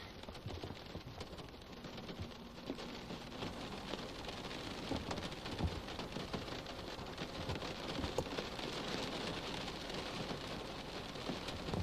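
Steady rain patters on surfaces on a wet afternoon, a continuous hissing wash with no voices, faint thunder-like rumbles underneath.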